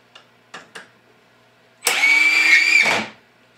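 A BLACK+DECKER 20V MAX cordless drill/driver (LDX120C), set to drill mode, whirs loudly for about a second after a few light handling clicks, then spins down.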